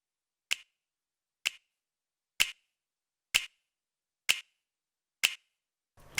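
Dry drum clap sample from a music production, with no snap layered on, firing six times at an even, steady pace, each hit crisp and sharp with a short tail, alone in silence.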